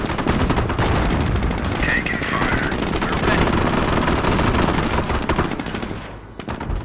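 Dense, continuous gunfire from soldiers in the video game Company of Heroes, rapid machine-gun bursts and rifle shots layered into a loud, sustained fusillade that eases slightly near the end.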